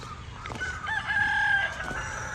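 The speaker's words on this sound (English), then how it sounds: "a bunch of chickens over here" A rooster crows once, a drawn-out cock-a-doodle-doo, amid faint background clucking from a bunch of chickens at a roadside stop near the Grand Canyon.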